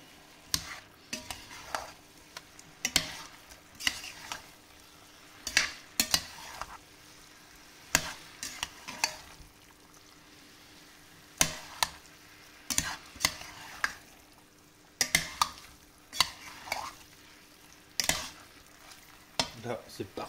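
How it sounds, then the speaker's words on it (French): Stirring of a simmered beef and tomato sauce thickened with flour in a pot, a spoon scraping and knocking in repeated bursts with a soft sizzle beneath, close and fairly quiet, no talking. "Et là on mélange bien."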